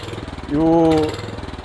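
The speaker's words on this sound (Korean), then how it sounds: "엔진 상태가 조금 안 좋은 것 같습니다." A used walk-behind cultivator that had been stored through winter idles with an uneven, pulsing engine rhythm. The engine sound is close and steady, and a brief tonal whine swells in the middle.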